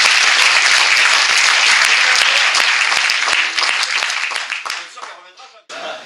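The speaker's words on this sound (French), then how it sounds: "On peut quand même l'applaudir en avant." Comedy club audience applause, a full burst of clapping that fades over several seconds into scattered claps before a voice picks up at the end.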